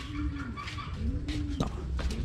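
A red-bar pigeon caught in a trap gives soft, repeated low coos over a steady background hum, with a brief scuffle near the end.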